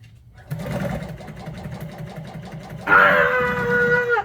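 A sewing machine runs with a steady low mechanical whir and rhythmic stitching hum, joined near the end by a loud high-pitched cry.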